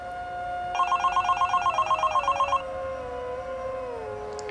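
A mobile phone rings indoors at night, a clear repeating electronic ring of about a dozen quick pulses over roughly two seconds, then stops, leaving a quiet room.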